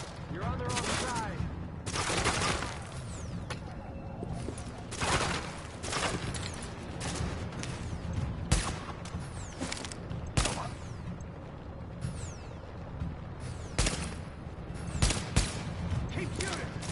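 Continuous gunfire in the video game The Division: repeated loud shots and rapid bursts keep going across the whole stretch, layered over a dense, rumbling battle soundscape.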